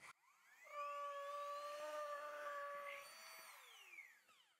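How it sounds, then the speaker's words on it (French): A small electric air pump inflating an INKEE GC12 inflatable light switches on with a thump and hums with a loud steady whine, the pitch shifting slightly as the light stiffens, then winding down. "Et là, j'appuie pour allumer la pompe."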